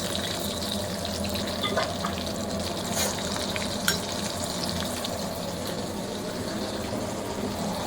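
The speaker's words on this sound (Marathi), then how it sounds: "आता मी फटाफट बनवतो, फ्राय करतो आणि तुम्हाला दाखवतो" Battered prawn lollipops frying in hot oil, a steady crackling sizzle running without a break, with a few faint clinks and bubbling bursts, fairly close and even in loudness.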